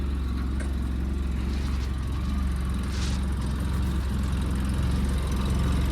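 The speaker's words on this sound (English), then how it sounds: "I'm gonna let this thing idle and warm up a little bit." A Polaris Ranger utility vehicle engine idles and warms up after a hard start, a steady low rumbling drone that holds even and moderately quiet throughout, with faint incidental background noise and no talking.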